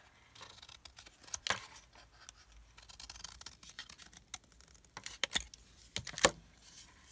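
Scissors snip through packaging material in scattered sharp cuts and rustles, close and fairly quiet, with irregular pauses between strokes.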